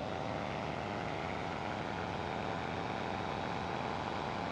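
A small propeller airplane engine runs at wide open throttle in a steady, loud, continuous drone with no pauses, heard from inside the aircraft.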